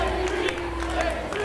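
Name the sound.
wrestling crowd cheering and clapping, rallied by JB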